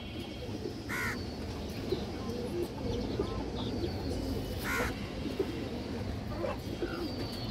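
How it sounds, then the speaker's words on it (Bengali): A loft full of pigeons keeps up a steady cooing chorus at close range, with a few sharper bird calls cutting through now and then. "অনেক সুন্দর একটা মাদি কবুতর"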